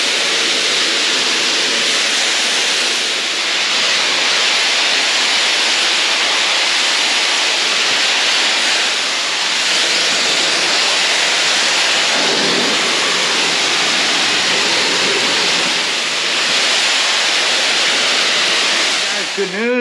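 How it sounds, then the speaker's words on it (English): A pressure washer sprays continuously down a horse stable aisle, a loud steady hissing roar that holds for the whole stretch with only slight shifts as the jet moves across surfaces. "let's get started pressure washing"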